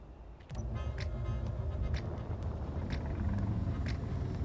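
Spacecraft engines in a video game start up after a short click, then settle into a steady low roaring hum with faint rhythmic ticks and whirs as the craft lifts off, close and moderately loud.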